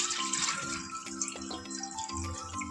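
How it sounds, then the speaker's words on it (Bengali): A tap runs steadily while drinking water bottles are rinsed under it, a close splashing gush with small clunks of the bottles being handled. "ভাবলাম বোতলগুলোকে ধুয়েই নিই ধুয়ে তারপর জলটা ভরে নেব"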